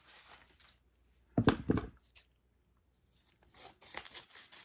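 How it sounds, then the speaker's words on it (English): Scissors snip through catalog pages in a quiet room: a few close, crisp cuts in a short burst, then softer rustling and paper handling after a pause. "So let's go ahead and take our scissors."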